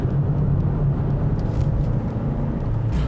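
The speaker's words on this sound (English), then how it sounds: "especially when you're going around a bend like this and you can drop down a gear and really throw it into this corner" A 2023 Mazda2 with a manual gearbox, its engine droning low and steady as it downshifts through a bend, with road rumble throughout and no clear rev spike.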